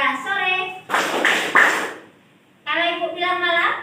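A classroom of children claps three times in a quick burst, framed before and after by the group's chanted voices.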